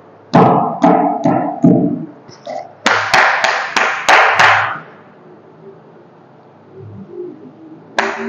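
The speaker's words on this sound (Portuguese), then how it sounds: "A gente aplaude." Hand clapping in a church sermon: a few sharp, close claps, then a faster run of claps, with quiet room tone and faint sounds afterward.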